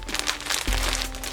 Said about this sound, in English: Oh, this is what the hair is going to come in, these separate plastic bags.